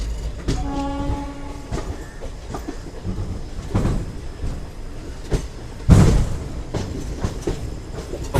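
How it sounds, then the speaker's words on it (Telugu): Superfast express train leaving Ongole station: a close, loud rolling rumble with rail clatter, a brief horn blast near the start and a sharp louder burst about two-thirds through. "ఆ ట్రైన్ వచ్చేసి ఒంగోలు నుంచి అయితే బయలుదేరిపోయింది."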